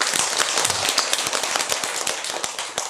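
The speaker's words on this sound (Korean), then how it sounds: "훌륭하신 박수 한번 쳐주세요" Audience at a Buddhist temple dharma talk claps together, a dense run of sharp, overlapping hand claps that continues steadily for about three seconds and fades slightly toward the end.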